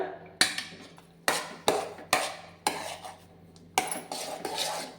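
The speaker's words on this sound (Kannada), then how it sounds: "ಇದನ್ನು ನೀಟಾಗಿ ಮಿಕ್ಸ್ ಮಾಡ್ಕೊಳ್ಳೋಣ" Spoon or spatula scraping and knocking against a pan while kesari bath semolina with saffron colour is stirred, giving about seven close, sharp clanks in an uneven rhythm, with no talk.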